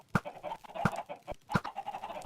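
Chickens cluck in a crowded Minecraft farm, a steady stream of overlapping clucks with several sharper louder calls at irregular intervals, close and moderately loud, with no talking.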